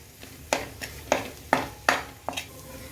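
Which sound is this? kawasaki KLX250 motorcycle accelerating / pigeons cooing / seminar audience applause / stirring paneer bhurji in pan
stirring paneer bhurji in pan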